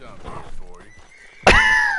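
A horse whinnies loudly and up close in the Red Dead Redemption 2 video game, a sudden strong burst that trails off, following a stretch of softer mixed game noise.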